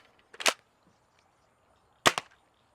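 A Nerf Pro Torrent spring blaster fires Worker darts, giving two sharp, loud cracking shots about one and a half seconds apart. Near silence separates them.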